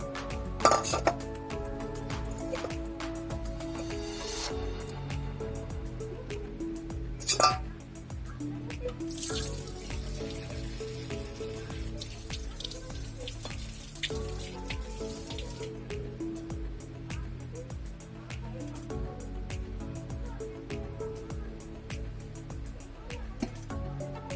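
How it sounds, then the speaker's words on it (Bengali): Chopped onion, one bowl, sizzles in hot oil in a pan on a low gas flame for beef and potato curry, giving a continuous crackling hiss with occasional sharp clinks of a utensil against the pan. "এখন আমি পেঁয়াজটাও দিয়ে দিলাম তেলের ভিতরে"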